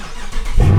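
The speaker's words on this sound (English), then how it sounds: "we turn the car on" A Dodge Charger R/T engine starting, a short crank noise followed by a sudden loud catch into a deep idle rumble, close by.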